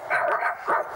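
A voice imitates a dog barking, two short yappy woofs close to the mic, with a brief pause between them.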